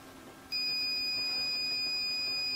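A multimeter's continuity beeper sounds on the CRT heater of a vintage Pye LV20/BV20 television. After a quiet half second, a single steady, clean, high-pitched tone switches on and holds unbroken to the end.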